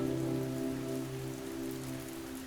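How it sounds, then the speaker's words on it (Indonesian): Light rain falls outside a window at night in a city, a soft, even patter heard from indoors, steady and gentle with a faint background hum and no voices. "Hujan turun kecil di luar jendela."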